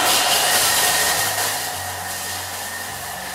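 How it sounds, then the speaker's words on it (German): Thermomix blender pulverizing chocolate and other ingredients at top speed 10, a loud, steady high-speed whir that dominates the whole stretch and settles slightly lower toward the end. "Wir schmeißen das alles in den Kessel rein und pulverisieren das 20 Sekunden ebenfalls auf Stufe 10."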